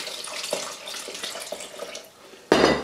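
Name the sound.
water being poured into a pan for porridge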